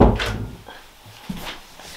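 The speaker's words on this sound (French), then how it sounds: "je ferme la porte" A door pushed shut indoors in a home, giving a soft woody knock followed by a lighter latch click a second later, close and brief.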